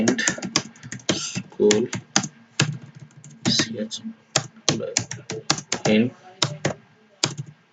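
Close typing on a computer keyboard while entering text into Excel, rapid clusters of clacky keystrokes with brief pauses, heard under someone speaking Hindi.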